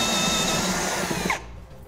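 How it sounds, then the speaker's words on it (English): A step drill bit boring holes in the bed of a 2016 Ram 2500 truck, a loud continuous grinding whine that stops abruptly near the end, followed by quiet. "I'm gonna come back with a step drill bit, and I'm gonna drill them out to a 9/16."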